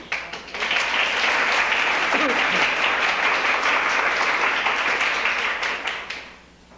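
A church congregation bursts into sustained applause during a Spanish-language sermon, a dense wash of many hands clapping at steady loudness for several seconds before fading out at the end.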